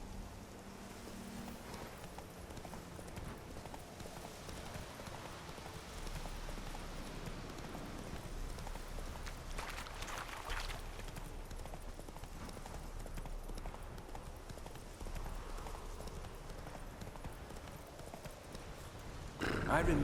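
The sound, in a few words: horse hooves and whinny, Roach, Witcher 3 video game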